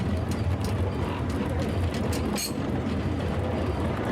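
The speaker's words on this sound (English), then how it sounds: "the little green engine puffed cheerfully back down the line" A small green steam engine runs along a heritage railway line in Gloucestershire and Warwickshire, giving a loud, steady rolling rumble with a faint rhythmic clatter of the carriages.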